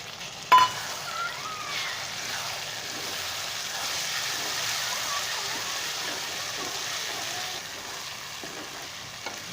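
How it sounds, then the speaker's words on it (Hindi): Tomatoes frying with golden onions in a pan, giving a steady hissing sizzle that holds evenly throughout after a single sharp knock near the start, close with no talk. "टमाटर को अच्छी तरह फ्राई करेंगे।"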